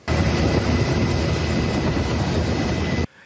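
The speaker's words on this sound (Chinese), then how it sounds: "空勤直升机前往雪山圣棱线北棱角前100公尺处，将摔落300公尺深谷的张姓登山客抬上直升机" A rescue helicopter working near a snowy mountain ridge, its rotor and engine roar steady and loud throughout, close and continuous with no voices, cutting off abruptly near the end.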